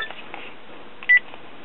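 A telephone keypad sends a quick run of short dialing tones, faint and clipped, with one longer beep in the middle, near a workbench where a Philco Predicta television's tubes are being tested.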